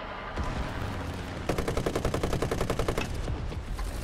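Rapid automatic gunfire from the M-51 in the War Thunder video game, a fast regular burst of loud cracking shots lasting about a second and a half over a low rumbling background.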